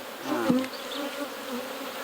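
Honey bees buzz densely around an opened hive, a continuous close swarm hum with a brief louder swell near the middle, no voices present.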